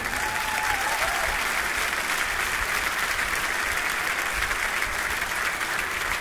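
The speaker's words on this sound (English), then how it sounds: "please give them a round of applause" Sustained applause from a large audience at a live concert in Cologne, a dense, even roar of clapping that continues at full strength for several seconds without speech.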